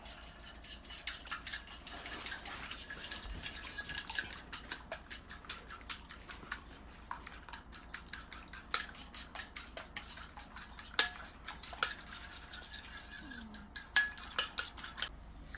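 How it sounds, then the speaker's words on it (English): A fork clicks and taps rapidly against a bowl while smashing an egg yolk and beating it, a quick, irregular run of light metallic ticks in a quiet kitchen. "Take a fork, smash the yolk, and mix it up."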